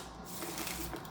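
A continuous riffling shuffle of tarot cards, dense and steady for about a second, close and fairly quiet with no talking.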